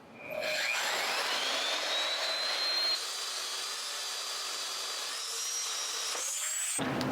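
A magnetic drill boring steel: a steady high-pitched drilling whine spins up and holds for several seconds, shifting pitch slightly midway as the bit cuts, then winds down with a clunk.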